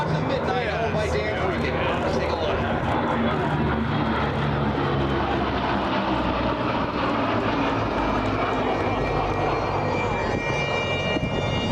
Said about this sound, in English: Lightnings making a pass on the field, coming over on a low left-hand bank here over the field